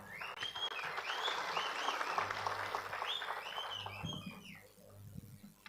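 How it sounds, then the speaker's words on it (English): A round of applause for the chair at an annual general meeting, moderate clapping from a seated audience that swells and fades over several seconds, with a few voices mixed in. "I want us to give a round of applause to my chair."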